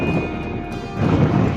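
Strong wind buffets the microphone on a bivouac hike around Colmar, rough low rumbling gusts that swell near the end, loud and close.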